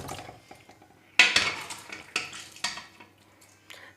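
Tender beef pieces drop into a karahi of hot oil left from frying onions, giving a sudden loud sizzle burst with metal clatter from the pan, then further sizzling splashes as more meat goes in.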